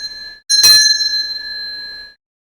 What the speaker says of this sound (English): It could be the sound of a bell